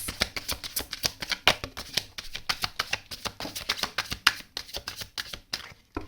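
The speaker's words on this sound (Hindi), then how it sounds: "लास्ट शफल है" Tarot cards being shuffled by hand: a rapid run of crisp, close riffling flicks and soft slaps that repeat steadily for several seconds, with no talking.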